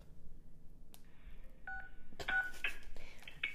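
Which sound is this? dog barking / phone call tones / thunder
phone call tones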